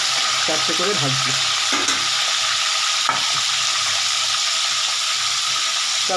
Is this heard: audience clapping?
no